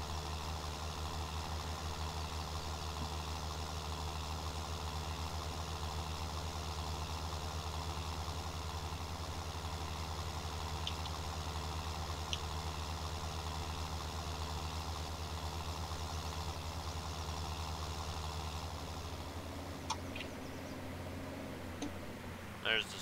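A farm tractor engine idles in a steady low hum with faint clicks, close and constant, shifting slightly near the end as other rumbling joins.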